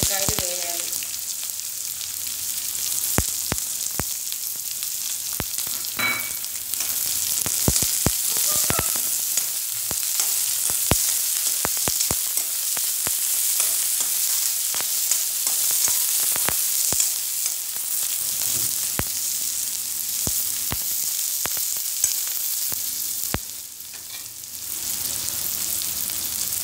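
Chopped onion and green chilies dropped into tempering oil with curry leaves for a carrot fry, crackling and popping over a steady hiss, loud sharp spatters in the first half, then a continuous sizzle.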